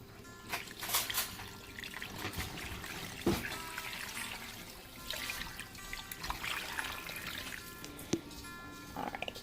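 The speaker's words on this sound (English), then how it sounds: "And then I just pour the water over." Water poured from a vessel over beef bones and garden herbs (basil, oregano, thyme) for broth, a steady trickling splash running close throughout with brief louder sloshes.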